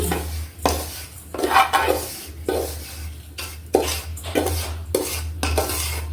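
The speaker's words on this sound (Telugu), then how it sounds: "ఇప్పుడు గ్యాస్ ఆఫ్ చేసేసి ఇది వేరే ప్లేట్లోకి తీసేసుకుందాం" Roasted semolina and coconut for rava laddu scraped from a pan onto a plate, giving repeated metallic scrapes and clinks of a spoon against cookware in steady bursts, close and fairly loud, with a low steady hum beneath and no talk.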